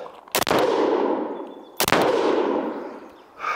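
Two loud, close rifle shots, spaced about a second and a half apart, each crack trailing a long echoing decay, fired during a 25 m barricade shooting drill.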